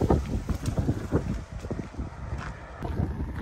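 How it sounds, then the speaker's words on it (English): Strong gusty wind near Cooper Landing on Alaska's Kenai Peninsula buffeting the microphone in uneven, rumbling bursts, loud and close, with no one speaking. "It's too windy if you can't hear it."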